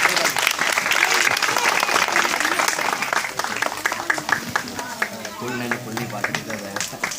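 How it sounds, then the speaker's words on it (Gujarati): Sustained crowd applause welcomes Sajidbhai at a farewell ceremony for a teacher in Vanzariyapura, Kheda, steady and full throughout, with voices talking over the clapping. "આપણે સૌ તાળીઓથી વધાવી દઈશું."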